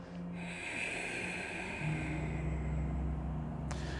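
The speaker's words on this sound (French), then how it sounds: "On expire." A person exhaling during a stretching exercise, a steady breathy outflow close to the listener over a low hum, with no speech.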